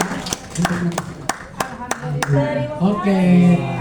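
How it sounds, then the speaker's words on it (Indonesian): A small group gives a brief burst of hand claps at a talk on folk tale writing, about eight sharp, evenly spaced claps, followed by someone speaking. "tepuk tangan Bu"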